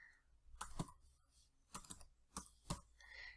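Quiet keystrokes on a computer keyboard come in small clusters of sharp clicks separated by brief pauses, close to the microphone.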